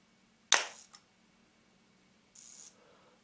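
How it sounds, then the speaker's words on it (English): A Canon F-1 film camera with a sticky slow gear fires its shutter: a sharp mechanical snap with a short follow-up click, a quiet pause, then a duller, drawn-out release as the sluggish mechanism closes. No one speaks. "And then I can fire the shutter and let's see how it will go."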